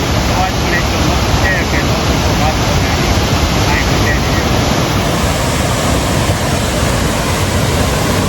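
Jamjir Waterfall in Gujarat roars with a loud, dense, unbroken rush of falling water that fills every moment, close and constant throughout.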